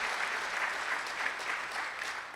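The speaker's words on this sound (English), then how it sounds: "That deserves a round of applause." A round of applause at a casino opening-day event for a long-serving Legislative Council member, a fairly distant, even wash of clapping from the crowd, sustained throughout.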